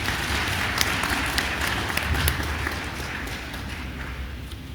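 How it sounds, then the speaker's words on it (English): Applause from an audience at a university New Year event after a presidential speech, a dense steady patter of many hands filling the hall, fairly loud and continuous with faint crowd noise beneath. "Shall we give him another round of applause?"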